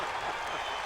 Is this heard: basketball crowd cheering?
yes